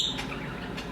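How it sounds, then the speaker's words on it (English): Five pet birds chirp in short, bright tweets, with a few quick calls rising over a steady, soft background hum. "I have 5 birds. They make a lot of noise."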